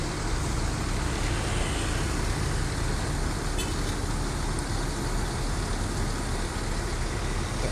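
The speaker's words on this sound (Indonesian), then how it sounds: "Itu ada masuk lagi bus itu." An intercity bus pulls into the back of a busy Indonesian bus terminal, its engine rumbling within a constant, loud wash of surrounding traffic noise, with no voices.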